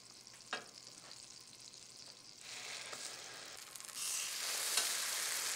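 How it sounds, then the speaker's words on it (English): Slices of soaked bread frying in melted non-dairy butter in a hot pan on medium heat for plant-based vanilla French toast, a steady soft sizzle that grows louder and brighter partway through, with a few small clicks. "Then drain the slices of bread before adding them to the pan."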